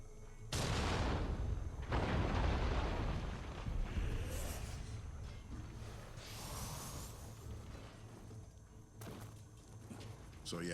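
Heavy cannon fire in the Underworld Depths video game, two loud booming blasts near the start followed by rumbling impacts and lighter crackling hits amid game sounds.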